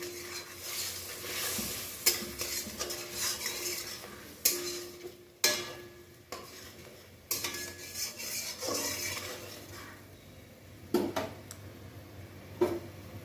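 Spoon scraping and stirring pabda fish curry masala with whole green chillies in a pan, irregular clinks and knocks against the metal over a soft sizzle, close and fairly steady.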